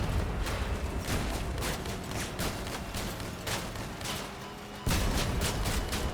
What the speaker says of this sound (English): A shotgun, is that allowed?